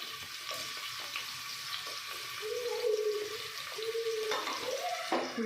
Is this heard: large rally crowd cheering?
no